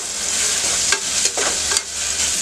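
Cumin seeds fry in a hot pan over a high flame, giving a steady close sizzling hiss broken by a few short scraping stirs.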